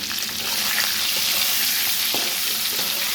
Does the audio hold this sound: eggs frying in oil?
yes